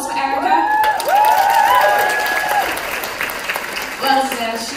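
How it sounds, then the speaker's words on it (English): An audience claps and cheers at a modern dance showcase, sustained applause mixed with whoops and shouts. A voice rises over the crowd noise for part of the time. "So a round of applause for Erica."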